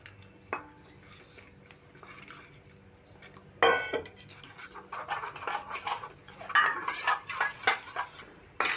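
Lentil batter thinned with water being stirred in a bowl, quiet at first, then close, irregular clinks and wet scraping of a utensil against the bowl growing busier toward the end.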